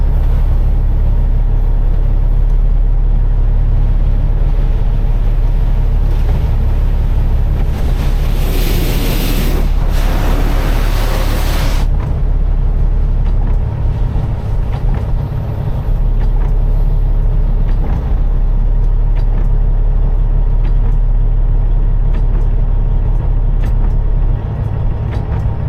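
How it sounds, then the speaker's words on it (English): Steady rushing water spray from rinsing down a Peterbilt 389 truck during a wash, a constant loud hiss with a brief stronger burst partway through, no talking. "Just going through the rinse off phase."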